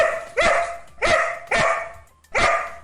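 A dog barks four times at close range, loud, sharp and evenly spaced, with nothing else heard.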